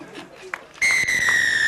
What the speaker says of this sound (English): The whistle says he's got the extras